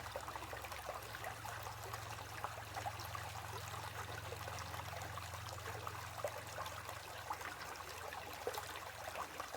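Water swirls and washes through a gold pan of trail gravel carrying ultrafine gold, a steady, close trickling slosh that continues evenly throughout.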